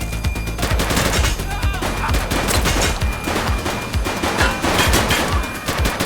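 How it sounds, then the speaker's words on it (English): Rapid, dense gunfire from several weapons in the police video game The Precinct, loud and continuous throughout, with crackling bursts overlapping each other. "Shots fired!"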